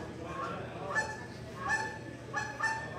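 Hunters blowing duck-and-goose calls at a calling contest in an indoor exhibition hall imitate goose honks, sounding several sharp, nasal honks in bursts against a noisy, reverberant room.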